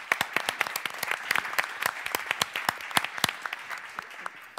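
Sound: audience applause for panelists

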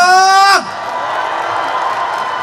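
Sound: audience cheering and shouting

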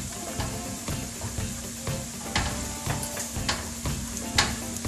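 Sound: annatto oil added to tomatoes sizzling in the pan

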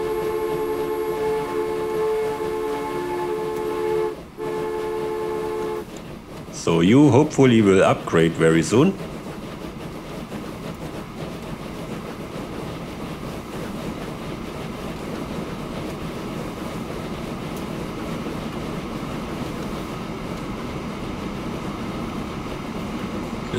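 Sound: train running in the video game Transport Fever

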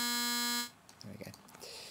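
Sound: sine wave tone from Max MSP synthesizer oscillator

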